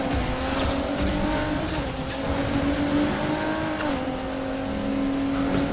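Race car engine in Need for Speed Heat, a circuit race against cops, holding a steady high drone with slight pitch shifts throughout, loud and continuous with no talk.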